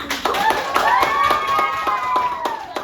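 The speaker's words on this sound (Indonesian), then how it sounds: "Tepuk tangan buat Maina." A class claps for a student in a rhythmic, evenly spaced beat of about a dozen sharp claps, with voices carrying over the top.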